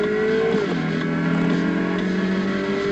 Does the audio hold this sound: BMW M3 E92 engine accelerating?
yes